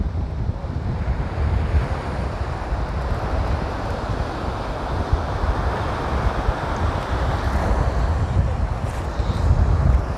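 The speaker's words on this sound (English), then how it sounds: "Yeah, you can really feel the strong wind." Strong coastal wind at Pacifica on the San Francisco Bay Area shore buffets the microphone in a constant roar over the low wash of ocean surf, loud and unbroken throughout.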